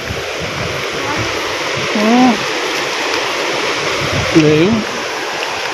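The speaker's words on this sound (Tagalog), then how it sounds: "Waterfalls pala to." A waterfall at Sabang, Palawan gives a steady broad rush of flowing water throughout, while people talk over it and a voice rises in two short melodic phrases.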